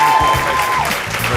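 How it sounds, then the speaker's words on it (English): A round of applause for panelists at a leadership town hall meeting, steady clapping from an audience throughout, with a faint tone underneath. "Let's give our panelists a round of applause."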